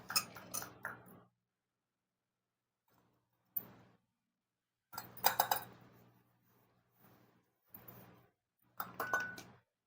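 Spoon stirring a pinch of turmeric into ingredients for Telugu eggplant pickle, a few scattered clinks and scrapes against the bowl in short bursts separated by quiet gaps, soft and close.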